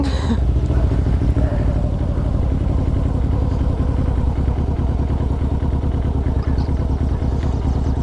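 A motorcycle engine runs steadily close by during a riding lesson, a constant idling rumble with mechanical clatter that holds level throughout.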